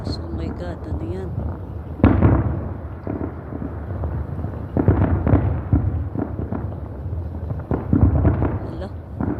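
Fireworks bursting over Olaya Road at 2 am, heard from a rooftop: repeated loud booms and crackling blasts in irregular bursts, with excited voices talking between and over them.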